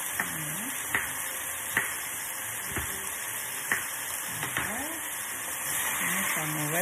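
Beef for fajitas sizzles and fries in a pan, with steady hiss and repeated scraping clicks of stirring, close by, while someone talks.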